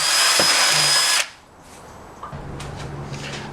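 A power drill whines loudly into metal on an MX5 for just over a second, then stops, leaving quiet shop noise and a faint low hum.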